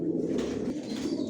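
Big-sized racer pigeons and their young coo together in a loft, a dense, low, steady burbling close at hand with no talk over it.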